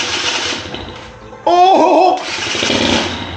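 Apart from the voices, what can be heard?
restored old motorcycle engine starting up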